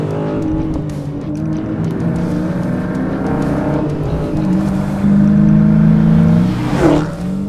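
A 2020 Dodge Challenger R/T Scat Pack Widebody V8 revving loud and close as it pulls through successive gears, engine pitch climbing then dropping at each shift, with a final rising rev at the end.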